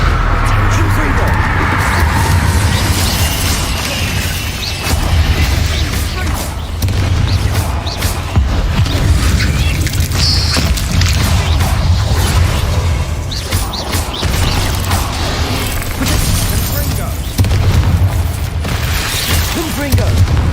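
Repeated Confringo fire spell explosions booming in Hogwarts Legacy, loud and dense over continuous game music and effects, with someone talking throughout.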